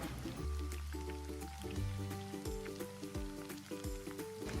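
Egg-dipped bread frying in a home pan, a faint steady sizzle with soft crackles and small pops continuing throughout, over quiet background hum.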